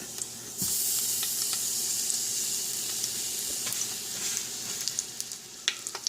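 A pork roast sears in an Instant Pot on sauté mode, a steady loud sizzle starting abruptly after a brief quiet moment, with occasional clicks and pops from the meat settling.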